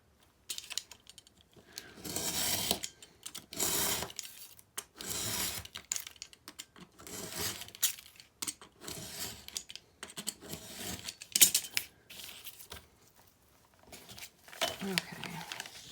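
Scissors snipping along the edge of a paper bag journal, a series of short crisp cuts and paper rustles in uneven bursts, close and fairly quiet, with someone talking in between.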